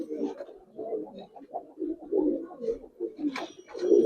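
Khaki Giribaz pigeons coo in a steady run of low, throaty burbling calls, several birds overlapping close by with brief pauses, a faint higher chirp near the end.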